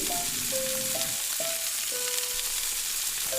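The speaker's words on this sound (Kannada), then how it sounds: "ಸಾಸಿವೆ ಸಿಡಿದ ಮೇಲೆ ಕರಿಬೇವು ಮತ್ತು ಒಣಮೆಣಸಿನಕಾಯನ್ನು ಹಾಕ್ಕೊಳ್ಳಿ." Mustard seeds, curry leaves and dried chillies sizzle steadily in hot oil, a loud, continuous crackling hiss close by, with a few light metallic clinks of stirring and no talk.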